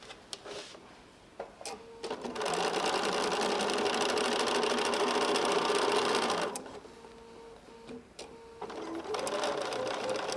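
A sewing machine stitches a pinned quilt block, starting with short bursts, then running in a steady whir for several seconds before stopping and restarting in brief runs, fairly quiet and close.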